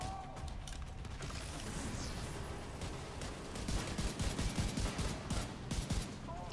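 Rapid gunfire from shooting a boss and its adds on a turret in the Iron Horse tower run video game, dense bursts that grow louder and more clustered toward the end, with mechanical clanks.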